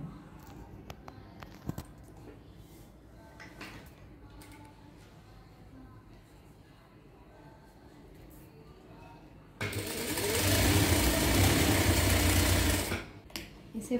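A sewing machine stitches a folded piece of tissue fabric in one loud, steady burst of about three seconds. Quieter handling clicks and rustles come before it.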